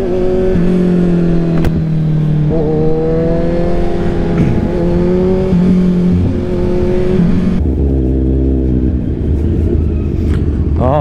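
A car engine runs loud and steady the whole time, with a shifting engine note as it revs, heard from inside the car while people talk briefly over it.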